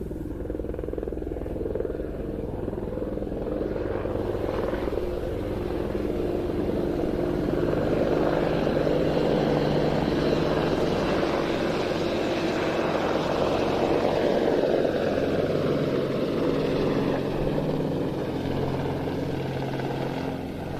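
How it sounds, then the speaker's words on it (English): A Qatar Emiri Air Force Apache helicopter from 42 Squadron arrives at an airshow. Its rotor and engine drone rises and swells steadily as it draws nearer, with no break for the whole stretch. "An Apache coming to us from 42 Squadron of the Qatar Emiri Air Force"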